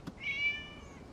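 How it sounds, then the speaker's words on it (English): A single cat meow from the Genshin Impact video game, rising and then drawn out, heard clearly and alone with a soft background behind it. "It was just a cat."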